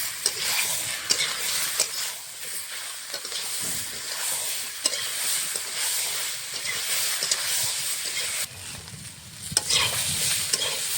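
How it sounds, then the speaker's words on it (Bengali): Vegetables with stalks sautéing in a pan with green chilli, ginger and cumin paste, steady sizzling hiss under repeated scraping stirs of a spatula, close and continuous without speech. "মশলা দিয়ে সবজিটা ভালো করে কষিয়ে নিয়েছি।"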